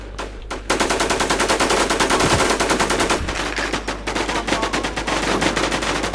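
Rapid automatic gunfire from a Warzone-style online shooter game, loud dense bursts of machine-gun fire starting after a brief pause and continuing almost without break.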